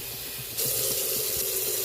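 Hot water is poured into flour for country gravy, starting abruptly as a steady splashing, hissing stream that runs loud and continuous to the end, with no talking.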